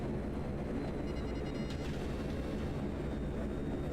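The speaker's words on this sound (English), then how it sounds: "I heard the engine noise. I look over and the wings are about to touch." An airplane engine passing very close in GTA Online, a steady loud low droning roar with a brief rise in the middle, heard alone without talk.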